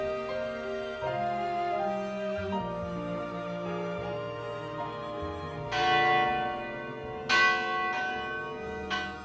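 Church bells of the San Albino basilica, a set of three bells cast in the 1800s, ring in overlapping peals with several fresh strikes standing out over a lingering tonal hum.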